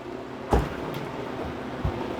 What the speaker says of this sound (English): we'll be able to open the door and get them out.